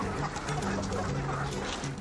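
Free-range Landes yellow chickens on a farm cluck continuously in soft, overlapping bursts, a steady flock murmur with no one talking.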